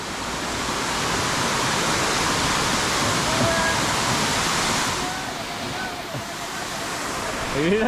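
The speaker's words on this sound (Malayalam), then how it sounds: "ഇതാണ് ചെറിയൊരു വാട്ടർഫാൾസ്" Small waterfall on a trek in Maharashtra, a steady broadband rush of falling water running loud and continuous, easing slightly toward the end with faint voices in the background.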